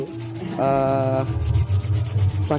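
Body filler putty is spread with a scraper over the welded rear body of a Honda C70 motorcycle, giving close, rough rubbing strokes with a brief squeaky scrape near the end.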